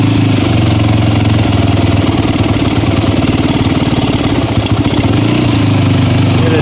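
Yamaha WR dirt bike idling after long storage, choke partly on: a loud, close, steady single-cylinder putter that holds an even rhythm throughout without revving, with no voices over it.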